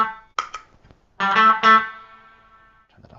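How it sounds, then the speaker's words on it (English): Short guitar notes ring through a spring reverb pedal set to its longest spring, each struck note trailing a long shimmering tail that fades out, with brief pauses between phrases. "I'm using the longest spring setting on the pedal at the moment just because it's most obvious."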